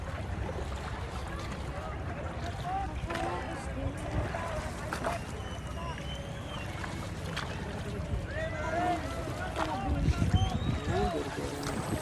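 A small passenger boat heads across open water toward Marinduque, its motor and the slap of the hull making a steady rumble with wind buffeting the microphone, while people talk over it.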